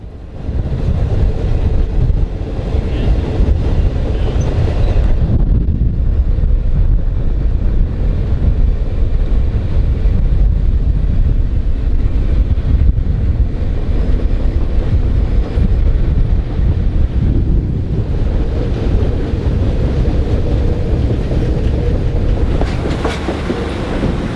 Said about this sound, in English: the train was pulled by the Metro MP36I with the 765 on the rear of the train